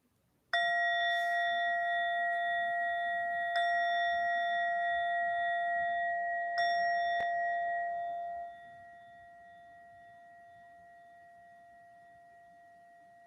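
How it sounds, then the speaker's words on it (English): Three meditation chimes are struck one after another at the start of a practice, each a clear bright ring with a lingering tone that slowly decays into quiet. "So we'll have 3 chimes at the start and then 3 chimes at the end"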